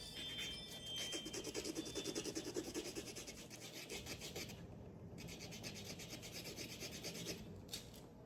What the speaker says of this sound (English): this 600 grit sandpaper